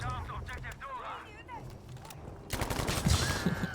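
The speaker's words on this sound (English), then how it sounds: "Using a Thompson here, since it's actually very good with hipfire." Thompson submachine gun hipfire in Battlefield 5 bursts out as rapid automatic shots in the second half. Before it, there is game ambience and someone talking.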